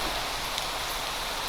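Steady rain hisses through a video game scene, a dense, even wash of falling drops with no voices over it.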